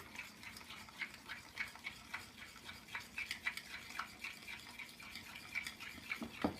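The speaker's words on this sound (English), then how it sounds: "we're going to add 1 egg. And mix that in" A single egg being stirred into cookie dough in a bowl, giving soft repeated scraping and clinking strokes in a steady rhythm, close and fairly quiet, with no voices.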